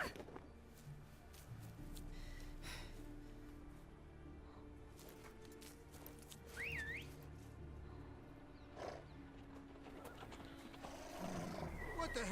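Horses neighing in the Witcher 3: Blood and Wine game, a single rising and falling whinny amid background game sounds and occasional clatter, with a voice speaking nearby.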